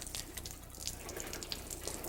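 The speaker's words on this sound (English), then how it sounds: "Let me get out of the way of this water." Water runs and trickles softly nearby while a car is taken apart, a faint steady splash with small drips and no talking.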